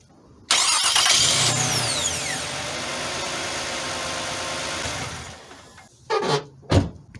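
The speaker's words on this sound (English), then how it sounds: "the engine started with no problem" A Toyota Sienna engine cranks and catches after a starter replacement, then runs at a steady idle for several seconds before cutting off, followed by a couple of short knocks.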